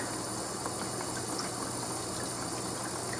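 Cold water runs from a kitchen tap while dough is being made, a steady dense hiss of flow filling the whole stretch without voices.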